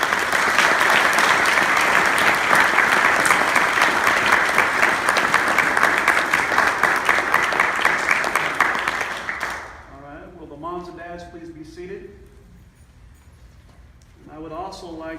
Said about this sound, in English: We should give the parents a round of applause.